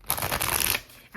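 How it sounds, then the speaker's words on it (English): A deck of oracle cards, the soul contract deck, is riffled and shuffled in a dense papery flutter lasting most of a second, then a brief pause and the cards rustle again, close and fairly loud. "So I'm going to shuffle from the soul contract deck."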